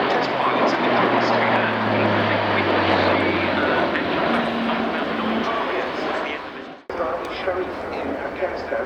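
A Luftwaffe Airbus A400M Atlas military transport aircraft flies a display at an air show, its four turboprop engines giving a loud, sustained propeller roar with shifting drone that briefly dips near the end.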